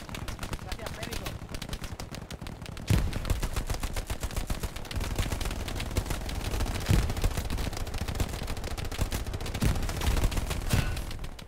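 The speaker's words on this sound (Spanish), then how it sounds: "cómo puede ser que le haya pegado tres tiros con la STG a la MG y se la pele" Gunfire from an STG assault rifle and an MG machine gun in the World War II shooter Hell Let Loose, dense rapid bursts and single shots crackling throughout, loud and continuous with some heavier booms.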